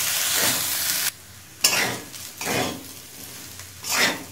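Pasta tossed with a spoonful of sugar is stirred in a pan, with bursts of sizzling frying and scraping strokes separated by brief quieter gaps, close and alone.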